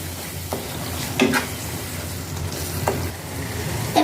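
Spices with lemon juice and biryani masala sizzling steadily in a pan while a utensil scrapes and stirs with occasional sharp clinks, moderately close and without talk.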